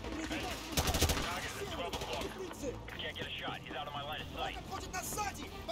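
A SCAR rifle with a thermal scope fires in the Modern Warfare 2 campaign, with a few sharp shots and short bursts under steady game noise while a person talks over it.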